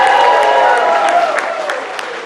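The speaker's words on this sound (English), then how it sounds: "Let's give all our contestants a round of applause." Audience applause for contestants at a steampunk costume contest, a dense, loud wash of clapping from a crowd with some voices and cheers mixed in, fading slightly toward the end.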